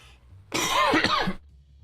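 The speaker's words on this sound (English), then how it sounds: "it's a drier cough than it was before." A dry cough sounds twice in quick succession, close and fairly loud, with quiet room tone before and after and no talking.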